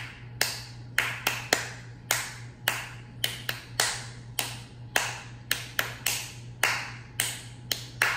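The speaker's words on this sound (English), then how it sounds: "let's start out just clapping out that difference in an 8-count rhythm" Hand claps keep a steady, evenly spaced straight eight-count rhythm, sharp and close, alone over a low constant hum.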